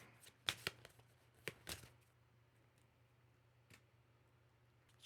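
Cards shuffled for a solo board game: a quick run of crisp riffle snaps and taps, then a single later flick, close up in a quiet room.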